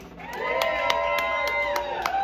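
A crowd at a live rock concert at Drom cheers and whoops in a lively, sustained roar, with rhythmic drum hits punching through.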